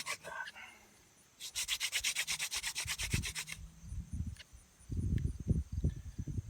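A wooden hand drill spins against a fireboard for friction fire, giving a fast rhythmic rubbing and sanding burst near the mic, followed by softer scraping and handling knocks.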